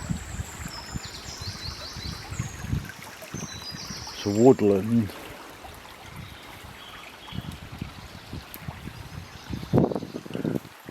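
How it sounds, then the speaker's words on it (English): Running water of a small stream in Lawton Woods in the UK trickles steadily under the whole clip, while someone talks over it and a brief splashing burst breaks through partway. "That nice refreshing sound of running water."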